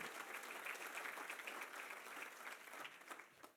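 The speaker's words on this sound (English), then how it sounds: "So give yourselves a round of applause." An audience at a 25th anniversary gala dinner breaks into steady, dense applause, a sustained wash of many hands clapping at moderate distance throughout.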